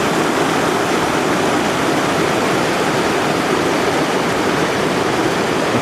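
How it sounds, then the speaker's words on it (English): A mountain river rushes out of a big lake at its outlet, giving a loud, constant broadband roar of flowing water with no break and no voices. "This one was more difficult again because this is the main river."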